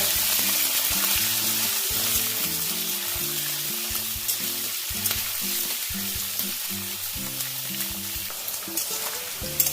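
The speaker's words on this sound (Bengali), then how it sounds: "গাজর বিন ক্যাপসিকামটা ভেজে নেব" Carrot, beans and capsicum fry in a hot pan for a continuous, close sizzle at an even level, while a low melodic background plays quietly underneath throughout.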